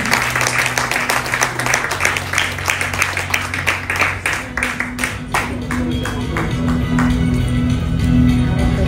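An audience gives a welcoming round of applause, with a dense, rhythmic clapping near the mic that thins and fades over several seconds into a steady background hum.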